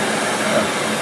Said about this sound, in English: When I turn the vacuum cleaner on, you should see how it sucks it through.